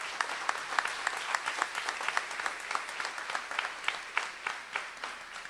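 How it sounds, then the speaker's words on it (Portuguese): A church congregation claps during a communion service, a steady patter of many hands at moderate distance for several seconds with no talking. "Uma salva de palmas ao Senhor."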